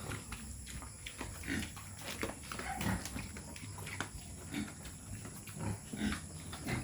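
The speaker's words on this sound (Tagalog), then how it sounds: "So, magaganda na yung katawan ng ating mga dalawang inahinin na may kasamang buntis." Sows, two of them pregnant, grunting on a farm under a guava tree, repeated low grunts and snorts at an irregular rhythm, close but fairly quiet, with faint rustling and no talk.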